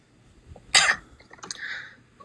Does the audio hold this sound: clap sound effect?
no